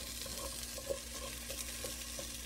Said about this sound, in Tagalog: Fry mo yung white onion.